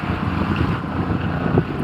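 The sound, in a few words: wind while sailing out of Hel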